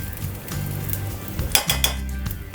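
Prawn poha sizzles loudly in a hot pan, a dense steady frying hiss with a few sharp metallic clinks of utensil against the pan near the end.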